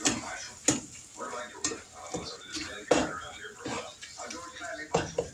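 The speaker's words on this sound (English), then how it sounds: "We're going to get this hamburger meat cooked." Hamburger meat cooks in a pot with a soft sizzle, punctuated by repeated scraping and knocking of a utensil against the pot as it is stirred, fairly close and moderately quiet, with a voice talking over it.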